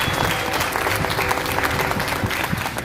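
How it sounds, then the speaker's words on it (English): Audience applause at a Homer citizen of the year award, a steady roar of many hands clapping continuously for about three seconds with no break. "So, big round of applause, Joe."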